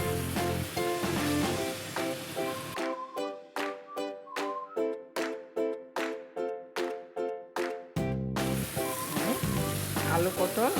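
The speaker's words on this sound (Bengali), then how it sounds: "এবার আমি আলু পটল ভাজা দিয়ে দেব।" Potato and pointed gourd sizzle as they fry in spice paste in a pan, a steady close crackle running beneath loud music throughout.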